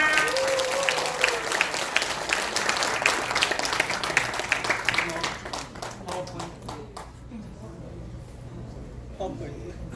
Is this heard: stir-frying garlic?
no